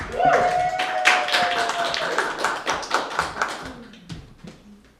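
An open mic audience in a live room claps and cheers for the host, with dense, fairly close applause that slowly thins out and fades, while a voice talks over it.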